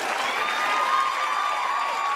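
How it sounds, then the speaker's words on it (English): A studio audience on a talk show cheers and shouts in a steady, dense roar of many voices, sustained and fairly loud for the whole stretch. "do not cheer that behavior"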